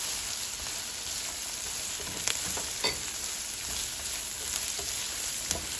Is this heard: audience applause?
no